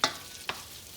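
Tomatoes stirred in an olive oil and garlic mixture in a pan for a summer pasta: two brief scraping stirs about half a second apart over a faint sizzle, no voices.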